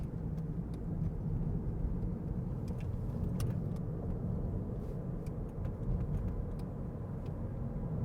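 A steady low road rumble of a car driving along a road in London, continuous and fairly even, with occasional faint light clicks above it.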